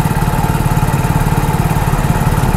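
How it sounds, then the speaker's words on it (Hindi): A motorbike engine, just started, idles with a steady, rapid, even thumping pulse. It is loud and close and runs alone with no talk. "देखिए ये हमारी बाइक स्टार्ट हो चुकी है"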